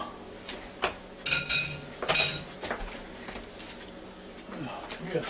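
Metal spoons and cutlery clink against pots while a big spoon is fetched beside a Ninja Foodi pot roast, with a few sharp clatters among quieter kitchen rattling.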